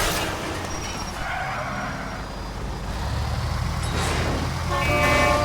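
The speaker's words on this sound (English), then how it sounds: "Listen to that engine still running strong." A fire truck engine idles and rumbles in the video game LA Noire, a steady low drone with road traffic noise around it and a few faint beeps, heard without talk.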